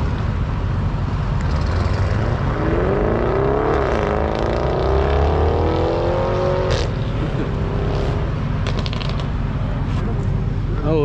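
A 2020 Audi RS6 Avant pulls away in Malibu, its engine note climbing through rising revs and a gear change over steady crowd noise, loud and close throughout.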